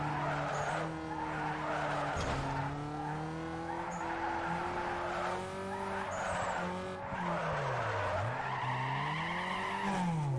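Tires squeal and skid continuously as a car drifts in Need for Speed Underground 2, the pitch wavering up and down over a steady engine drone, with no talk.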